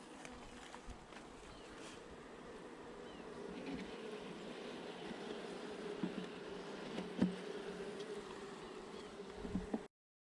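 Honey bees hum in a continuous low drone around an open hive of a colony preparing to swarm, close by and fairly even, with a few small knocks near the end.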